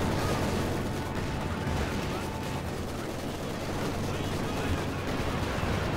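An artillery barrage in Company of Heroes 2, a dense continuous wash of distant rumbling shell fire and explosions with no clear gaps, sustained loudly throughout.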